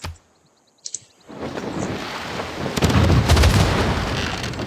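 A ranged attack shot fires in Civilization VI, a brief clicky interface sound followed by a swelling boom and rumble of cannon fire that builds and holds loudly to the end.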